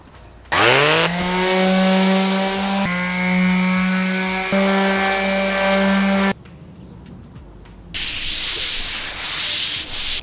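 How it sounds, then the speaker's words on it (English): Power sanding of a rough coated surface on an SUV being converted into a tiny home, a loud steady whirring drone with a few brief pauses and restarts, ending in a quieter hiss. "before doing that, I'm gonna sand it down"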